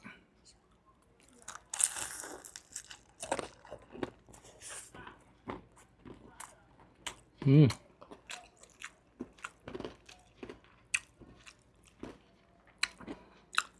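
Crispy jalangkote pastry with sambal being eaten at a Makassar food stall: close, repeated crunchy bites and chewing in irregular bursts, one loud crunch standing out, with no talk over it.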